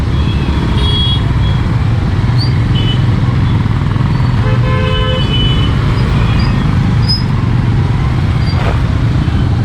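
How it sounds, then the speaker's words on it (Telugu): Heavy traffic on the Nandi Hills ghat road, a steady loud roar of cars and trucks with several short horn toots and beeps scattered through, heard up close from a Pulsar N160 motorcycle. "ట్రాఫిక్ మామూలుగా లేదు, ఏ టైంలో వచ్చినా కానీ ఇక్కడ"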